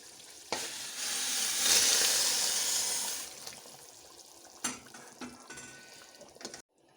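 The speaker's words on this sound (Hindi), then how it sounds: "अब हम इसमें उबला हुआ पानी डालेंगे।" Boiled water splashes into a hot pot of spiced black-eyed pea curry with a loud hiss and bubbling that fades after a few seconds, followed by a few clinks of a utensil.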